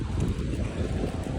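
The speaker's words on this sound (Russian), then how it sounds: "Какой сильный сегодня ветер" Strong gusting wind on the Khatai waterfront in Baku, a dense roaring rush buffeting the microphone throughout, loud and continuous with no voices.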